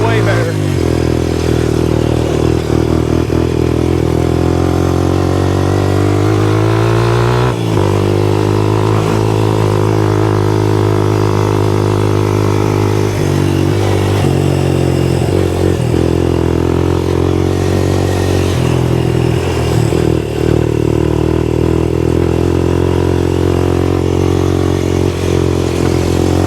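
A Raptor 125 quad engine runs loud and close with a high idle and a bogging fault, droning steadily and rising and falling through several revs. A clattering note runs underneath.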